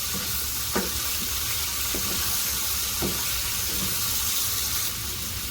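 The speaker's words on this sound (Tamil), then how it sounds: "சிக்கன் நன்றாக ப்ரௌன் ஆகிற வரைக்கும் நாம் இது ஃப்ரை பேனில் அப்படியே ஃப்ரை பண்ணலாம்" Chicken pieces sizzle in a frying pan for a methi chicken dish, a dense continuous crackle and hiss with a few sharper pops and light stirring clicks scattered through.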